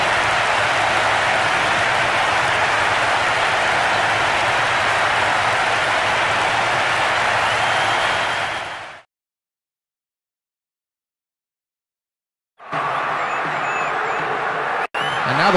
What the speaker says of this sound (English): That strike has just brought so much excitement and cheering.